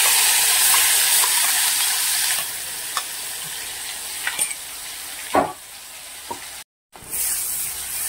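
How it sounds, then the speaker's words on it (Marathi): Thick spice paste sizzles and hisses in a hot pan with scattered stirring scrapes, the frying noise softening partway through and briefly cutting out. "हे मिक्सर मध्ये वाटलेलं सारण परतून घ्यायचं आहे"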